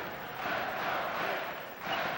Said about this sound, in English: That jam still ignites the crowd.